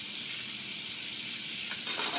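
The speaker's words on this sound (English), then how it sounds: "The pan is nice and hot, the butter is sizzling." Butter sizzles and fries in a hot pan before mushrooms go in, a steady close crackling hiss that grows slightly louder and busier toward the end, with no voices.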